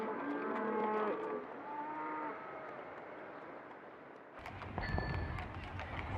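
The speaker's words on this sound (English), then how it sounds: "The ramshackle carts were drawn by cows." Cattle moo in long, drawn-out calls over a rumbling background as ramshackle carts are hauled along, then the scene shifts abruptly into louder, busier noise with scattered sharp tones.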